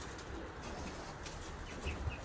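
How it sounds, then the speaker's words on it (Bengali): Pigeons perched up high in the sun coo softly and flap their wings, with a brief burst of wingbeats near the end over a steady outdoor background. "এই যে আমার কবুতরগুলো সব উপরে বসে আছে"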